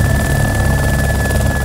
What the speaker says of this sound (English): Chopper two is coming in for a close look.